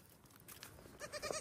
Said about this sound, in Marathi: हा बोकड आणि ही बकरी.